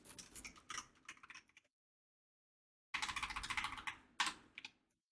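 Computer keyboard keys clatter in quick bursts of typing, close and crisp, with a silent pause before a second run of fast keystrokes.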